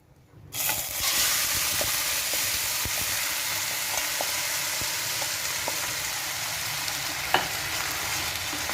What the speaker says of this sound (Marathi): त्यामध्ये आता आपण शिजवून घेतलेला भात घालूया.